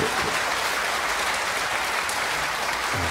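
A concert hall audience claps steadily in dense, sustained applause, a full even wash of clapping throughout with no pauses.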